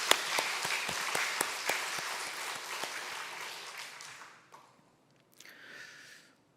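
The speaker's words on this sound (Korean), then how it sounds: "이렇게 섬겨주시는 분들 위해서 격려와 감사의 박수 한번 하겠습니다" A church congregation gives a round of applause at a midweek prayer service, with a few louder claps standing out. The clapping fades away over about four seconds, followed by a brief quieter sound afterward.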